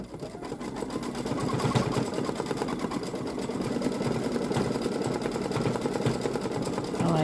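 A Babylock Solaris Vision embroidery machine stitching a design on fabric, a loud, close, continuous rapid needle chatter with a steady mechanical rhythm and no pauses.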